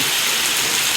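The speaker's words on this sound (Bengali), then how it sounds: "অনেক গরমের পর বৃষ্টি হচ্ছে প্রচণ্ড গরম এই কয়েকদিন টিকা যাচ্ছিল না দেখেন আল্লাহর রহমতে বৃষ্টি শুরু হয়ে গেছে" Heavy rain pours onto a rooftop after a long hot spell, a loud dense hiss of drops drumming continuously and close for the whole second.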